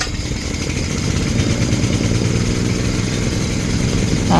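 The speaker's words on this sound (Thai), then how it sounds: "ช่างเขาก็สตาร์ทเครื่องเสร็จเรียบร้อย" A heavy truck's engine idles steadily at the roadside after a mechanic starts it, a dense low rumble that holds close and even throughout with no one talking.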